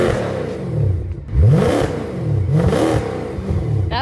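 A Mercedes C63 AMG engine fitted with headers and a full exhaust revs in several rising and falling surges, loud and close, with a throaty exhaust rumble between the pulls.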